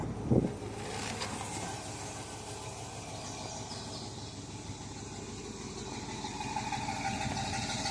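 A truck engine with a stock exhaust idles steadily with a low, even rumble, preceded by a brief knock at the start.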